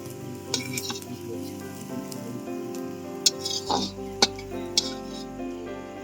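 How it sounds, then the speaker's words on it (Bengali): Capsicum and carrot frying lightly in a pan give a steady close sizzle, broken by a few sharp clinks of a utensil against the metal. "ক্যাপসিকামটা দিয়ে আমি আর কি ভেজে নেবো।"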